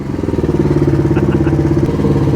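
A Kawasaki KLR dirt bike engine runs up close and loud, with a steady, pulsing low thrum and a mechanical clatter throughout, holding a fairly even idle with slight rhythmic surges.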